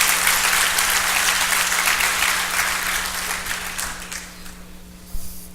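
Audience applause at a keynote conference in a hall, a dense, steady wash of clapping that tapers off gradually toward the end, with a steady low hum underneath.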